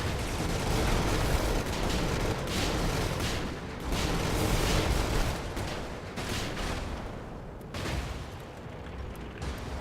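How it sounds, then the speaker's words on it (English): Mortar fire in the mech combat game Brigador, a dense run of booming explosions and battle noise, loud and continuous, with a few stronger blasts. "so I don't get hit by that mortar"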